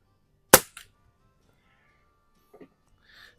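A Walther LGR air rifle fires a Vogel pellet: one sharp, close crack with a short echo, followed by quiet and a few small faint clicks and rustles.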